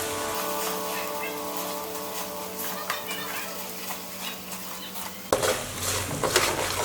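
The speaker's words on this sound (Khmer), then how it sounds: "យើងលីងស្ករក្រហមជាមួយនឹងខ្ទឹមសយើងឲ្យវាឈ្ងុយបន្តិចសិន" Palm sugar and garlic fry in a pan while a utensil scrapes and clinks against the metal, with a soft sizzle beneath, a steady tone for most of the clip, and brief background voices.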